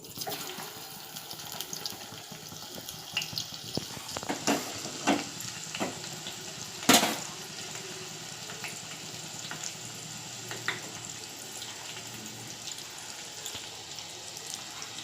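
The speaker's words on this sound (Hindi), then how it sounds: "तेल गरम हो गया है। अब मैं इसमें अदरक लहसुन डालूँगी।" Quiet sizzling of ginger and garlic frying in hot oil for mutton dal gosht, a soft steady crackle with occasional clinks and stirring sounds.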